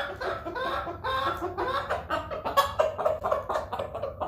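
Chickens cluck in a steady, busy chorus close by, overlapping short calls with a few louder squawks toward the end, no talking.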